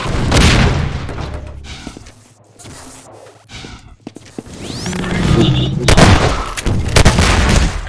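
Weapon fire in the Half-Life 2: Deathmatch shooter, with booming blasts and sharp bursts spread through the clip, including a heavy explosive burst near the end, amid busy in-game action.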